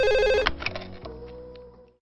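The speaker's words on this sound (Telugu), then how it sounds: "ఆ ఫోన్ తీ" A telephone rings indoors with a quick electronic trill that stops abruptly after half a second, leaving a faint fading room tone.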